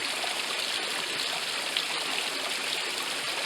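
A mountain stream flows steadily nearby, a soft continuous rushing and splashing of water with no voices.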